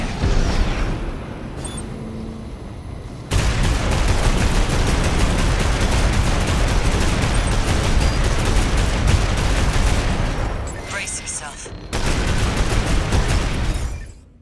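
Launcher fire and explosions in the video game Armored Core 6 erupt in dense, loud bursts of rapid booming shots that continue with brief gaps, forming a heavy barrage with no voices.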